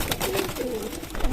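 A Rampuri pigeon coos softly and briefly, close by, over a noisy, rustling background.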